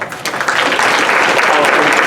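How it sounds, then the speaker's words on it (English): A crowd at a retirement ceremony for a coach applauds, a dense, loud burst of clapping that swells quickly and holds steady. "Give yourselves an applause"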